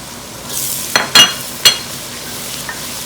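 Browned onions fry with added garlic and ginger paste in a soft steady sizzle, broken by a few sharp stirring scrapes and clinks against the pan.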